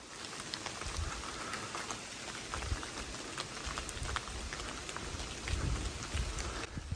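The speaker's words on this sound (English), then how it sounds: "If you listen, you can hear the mist making raindrops come off the trees." Mist condensing on tree leaves along the Cape Split trail at Blomidon Park drips down like light rain, a steady, dense patter of drops with soft low rumbles from wind, no voices.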